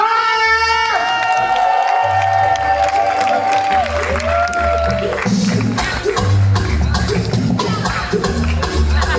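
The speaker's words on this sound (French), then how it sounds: "est-ce que vous pouvez accueillir avec des acclamations nourries celui qu'on" A comedy festival audience cheers and applauds to welcome a comedian on stage, with dense crowd noise, whoops and shouts over music throughout, a voice speaking over the din.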